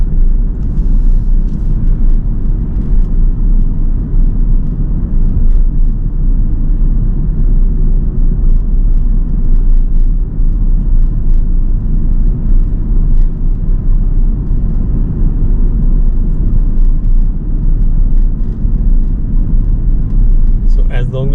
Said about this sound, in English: I will speed up and drive 30 miles an hour now